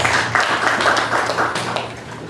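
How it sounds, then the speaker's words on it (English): A seated audience at a gathering of traditional chiefs gives the president of the Volta Regional House of Chiefs a brief round of clapping, crisp individual claps close by with a low hum underneath. "please join me in giving him a warm round of applause"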